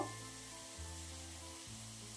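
Steady sizzling of potatoes frying in a pan, a constant crackling hiss with a low hum beneath, no talking.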